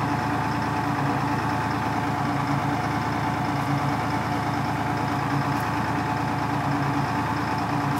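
A Whipple supercharged Detroit 6V53 diesel in a 1986 Chevy one-ton 4x4 idles on a dyno with a loud, steady, rumbling drone that holds even throughout, with no talking.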